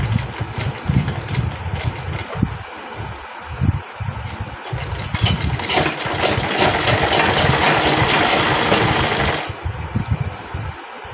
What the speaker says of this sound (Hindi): यहाँ किनारी पे हमने सिलाई लगानी है।